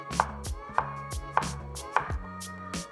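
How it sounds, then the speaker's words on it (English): A knife chops a vegetable on a cutting board in the kitchen, four or five crisp, separate thuds at an unhurried even pace, close up with a faint hum beneath. "And this, I'm just gonna chop."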